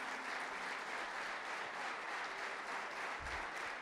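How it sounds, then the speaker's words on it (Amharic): A church congregation applauds together in a steady, dense wash of clapping that stays loud and even throughout, with no speech over it. "ቴንኪው ብላችሁ አጨብጭቡ።"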